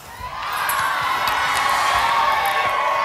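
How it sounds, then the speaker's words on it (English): A studio audience at a Big Brother celebrity eviction cheers, whoops and shouts together, a broad, loud roar that swells quickly and then holds steadily. "Oh, they're all cheering, they're all cheering."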